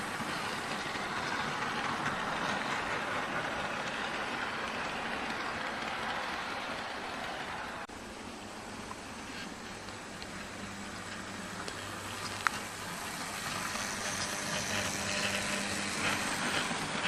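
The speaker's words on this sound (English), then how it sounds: "Always runs superb, this King Class." A GWR King Class locomotive, someone's own loco, runs at a Great Western Railway festival, making a faint, continuous hiss and rumble that shifts slightly partway through, with a single sharp click near the end.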